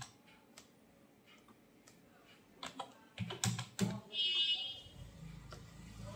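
Keys tapped on a computer keyboard while writing in MS Word: scattered soft clicks at first, then a quicker burst of louder, closer keystrokes, faint and close-miked in a quiet room.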